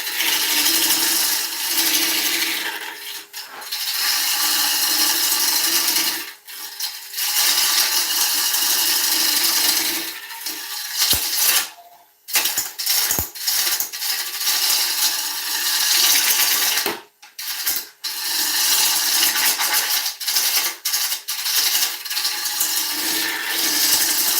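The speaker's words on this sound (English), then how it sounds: "We'll speed up again because the lathe is struggling." Oak bowl spinning on a wood lathe while a bowl gouge cuts it, giving a loud, steady scraping and hissing that runs in long stretches, broken by several short pauses as the tool lifts off the wood.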